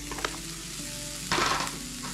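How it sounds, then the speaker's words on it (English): Pork sausage with chopped peppers and onions in a hot pan gives a steady close sizzle, with a brief louder burst of stirring partway through. "I got a pound of just regular pork sausage here, so it's not too spicy. I have some peppers and onions that I have chopped up. I'm going to cook those."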